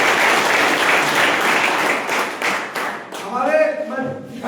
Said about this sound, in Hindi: जोरदार तालियां आपको बजाइए